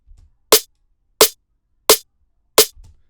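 Main and body snare drum samples play layered together for a dark drum and bass beat: four loud, punchy, evenly spaced hits with quick decay, heard alone.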